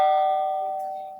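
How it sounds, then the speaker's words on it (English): A single electronic doorbell chime rings out clearly and decays slowly, clean and close with nothing else around it. "They're just about ready to eat them when the doorbell rings"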